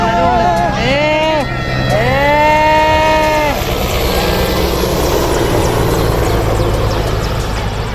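Helicopter passing close overhead at an air show on Marina Beach, a steady loud rotor and engine roar under excited shouts and cries from the crowd that rise and fall in the first few seconds.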